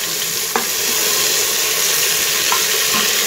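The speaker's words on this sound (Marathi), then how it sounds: "तर इथे आपला कांदा छान परतून झालेला आहे, त्यामध्ये आता आपण टोमॅटो टाकू।" Chopped tomatoes hit sautéed onion in a hot pan, setting off a loud, close, continuous sizzle with a couple of soft clinks from stirring and no speech.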